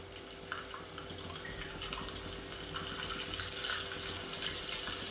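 Garlic frying in hot ghee in a pan for tadka, a soft steady sizzle with light crackles that grows a little louder toward the end.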